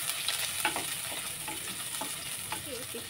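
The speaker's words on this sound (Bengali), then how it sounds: "বেশি পেঁয়াজ ভাজবো না" Onions sizzle steadily in a hot pan, with soft stirring scrapes over the continuous frying hiss.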